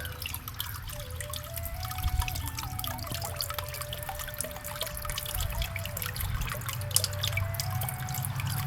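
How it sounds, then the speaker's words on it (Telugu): A homemade water fountain under a mango tree trickles and drips steadily, a soft continuous patter of falling water with a faint background hum. "ఇక్కడైతే వాటర్ ఫౌంటైన్ ఈ విధంగా కట్టానండి."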